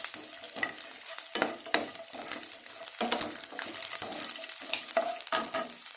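Garlic and cashews frying and being stirred in a pan for a dhaba-style paneer masala, a steady close sizzle broken by repeated scraping stirs, with no talking.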